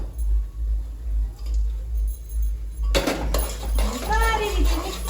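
Carrot halwa with cardamom and dry fruits is stirred in a pan. After a quiet hum, a metal spoon scrapes and clinks against the pan in brisk, close bursts, and a voice is briefly heard.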